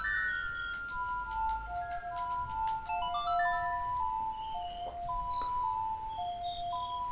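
A melody from the Majora's Mask video game, a gentle chiming tune of clear bell-like notes in a slow repeating phrase, fairly quiet with faint game sounds and no talking.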